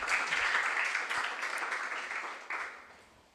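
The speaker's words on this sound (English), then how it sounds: "Let's clap for them." Applause from an audience at a regional junior science and maths quiz contest, a dense, moderately distant patter of clapping that gradually fades toward the end.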